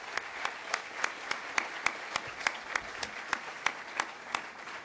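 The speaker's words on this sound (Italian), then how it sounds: "vi chiedo per lei un applauso, Emanuela Piantadosi." Audience at a formal commemorative event clapping, a sparse, fairly faint patter with distinct individual claps in an irregular rhythm throughout.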